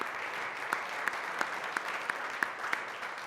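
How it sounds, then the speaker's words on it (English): An audience at a medical school debate gives steady applause, a continuous even patter of clapping with a few sharper individual claps standing out at regular intervals. "So if I get a round of applause for her, that'd be great."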